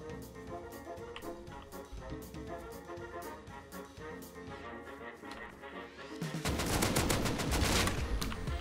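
Rapid gunfire in the survival video game Rust, with a long run of steady shots followed by a louder, denser burst of automatic fire near the end.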